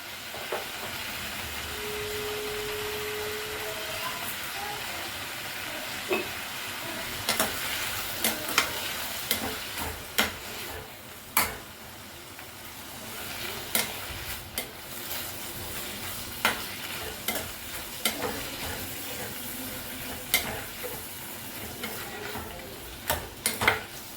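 Vallarai greens are sautéed in a pan over low heat for a chutney, with a soft steady sizzle broken by repeated sharp scrapes and taps of a stirring spoon.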